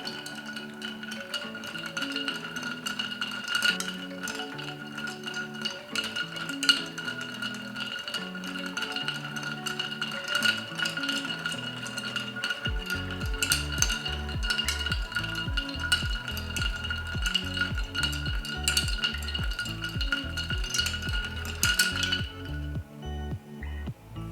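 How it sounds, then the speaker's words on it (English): A spoon swirling a Manhattan of rye whiskey in a mixing glass, a steady stream of light, rapid clinks and tinkles of ice against glass that runs for about twenty seconds over soft background music. "2 ounces of rye whiskey. We're gonna stir it."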